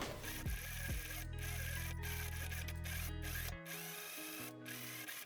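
A sewing machine runs a continuous stitch along the side seam of a dirndl blouse, a close, steady mechanical whir that stops abruptly partway through, followed by faint handling noise.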